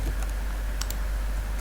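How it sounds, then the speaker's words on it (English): Keystrokes on a computer keyboard, a few light, sparse taps over a steady low background hum, close but faint. "and then I type my text"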